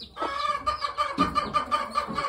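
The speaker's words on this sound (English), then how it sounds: "Here's some Dom chicks from one of my brood pens." Dominique hens and chicks in a brood pen cluck and peep in a quick, repeating patter close by, with soft chirps over a quiet barnyard background.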